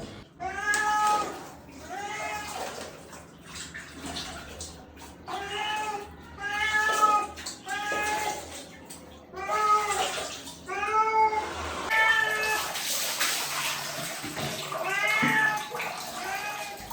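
A cat meowing repeatedly while it is being bathed: loud, drawn-out, complaining meows come in quick succession, close by, over faint splashing water.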